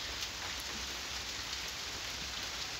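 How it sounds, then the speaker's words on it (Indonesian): Steady rain falls outdoors, an even hiss of many fine drops with a soft low rumble underneath, continuous and moderately quiet, with no voices. "dikarenakan ini kondisinya masih hujan"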